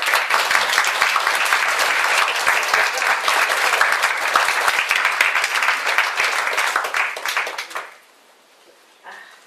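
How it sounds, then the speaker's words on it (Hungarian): Enthusiastic audience applause at a book presentation in Hungary, dense and sustained clapping from a full room for about eight seconds before fading out, with a brief voice afterward. "Tapsoljuk meg!"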